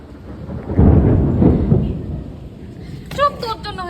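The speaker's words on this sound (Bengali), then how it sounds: "মেঘ ডাকছে এই ডাকছে" Thunder rumbles loudly through steady rain during a downpour, with a deep roll building and fading, and people talk in the final seconds.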